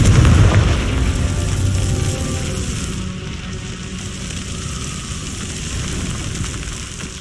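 A Confringo spell blast in Hogwarts Legacy lands as a heavy boom at the start, then decays into a long rumbling, crackling wash that fades slowly without talk.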